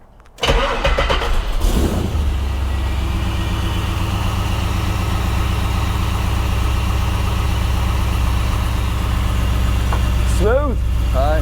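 A restored 1956 Chevy Bel Air V8 cranks and catches, then settles into a steady, smooth idle close by, with a brief rev near the end and a little talk around it.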